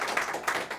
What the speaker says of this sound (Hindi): एक बार ज़ोरदार तालियां इन साथियों के लिए होनी चाहिए